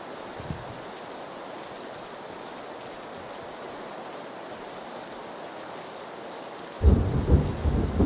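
Rain hisses steadily over the Erangel map in PUBG, then a loud, deep thunder roll breaks in near the end and rumbles on for about a second.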